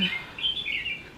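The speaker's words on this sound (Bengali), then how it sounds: "পাখির ডাক সুন্দর" Birds chirp and tweet outdoors on a breezy afternoon, a few bright calls rising and falling close by for about a second, fairly faint, with no talking.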